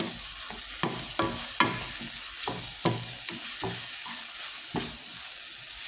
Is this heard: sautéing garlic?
yes